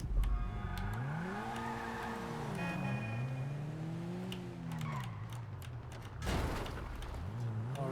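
In GTA 5, a Karin Futo's engine drones and rises and falls in pitch as it shifts through gears while driving, steady and moderately loud, with a few sharp clicks and a brief louder burst near the end.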